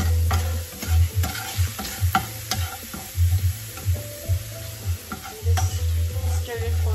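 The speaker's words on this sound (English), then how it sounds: "Just stir it for a while" Minced meat (qeema) for stuffed bell peppers fries in a pan while being stirred, making a continuous sizzle with a rhythmic run of scraping and tapping strokes under a low steady hum.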